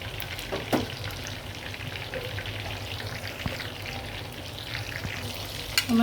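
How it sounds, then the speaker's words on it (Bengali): Chicken kebab sizzles steadily in hot oil in a pan, a continuous close crackling frying sound with a few soft clinks and scrapes near the end. "আমি আরেক পিঠটা ভাজবো ভালো করে।"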